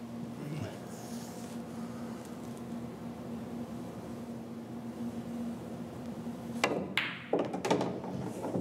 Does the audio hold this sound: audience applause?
no